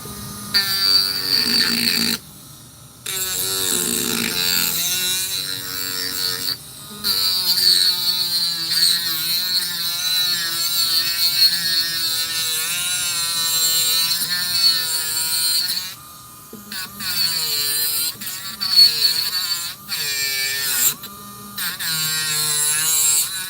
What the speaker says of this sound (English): This is just a little Dremel.